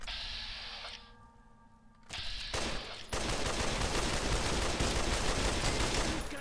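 A Tesla cannon in the game Fallout: New Vegas fires, followed by a loud, sustained crackling burst of energy that fills the last half of the clip, with no talk.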